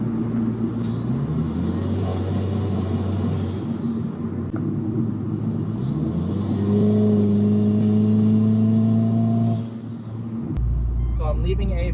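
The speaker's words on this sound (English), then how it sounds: "the car sounds amazing" A Hyundai Kona N fitted with an aFe intake coupler and Takeda turbo inlet revs repeatedly, with a loud steady engine drone rising in pitch on each rev and falling back, followed by a brief clatter at the end.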